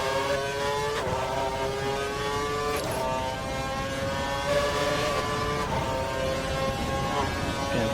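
A Sauber Formula One car races past at Abu Dhabi 2012, its high-pitched engine screaming loud and close, pitch climbing through several quick upshifts.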